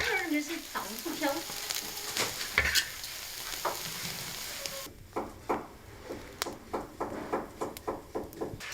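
Farmhouse dishes are stir-fried in a wok over a wood fire, with loud sizzling and rhythmic scraping of the spatula against the pan, the strokes becoming steady and regular in the second half.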